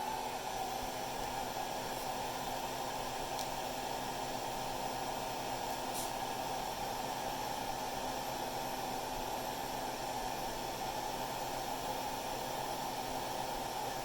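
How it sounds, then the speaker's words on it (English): Hair dryer running on low while working on a Panasonic 36v ES200G scooter battery pack, a steady even airflow hiss, constant and moderately quiet, with a faint hum. "Getting ready to turn the hairdryer on low."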